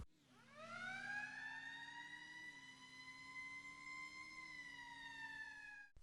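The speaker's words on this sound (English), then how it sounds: "just listen to this wonderful siren" A fire engine siren in the video game Anomic wails steadily and loudly, a sustained rising tone that holds with slight wavering pitch for several seconds before cutting off abruptly.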